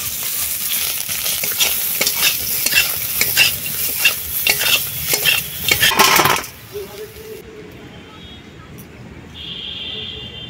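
Puti fish with onion and chili stir-fry in mustard oil with a loud, crackling sizzle. A spatula scrapes and clinks rhythmically against the pan, then it quiets to a low hiss with a faint voice.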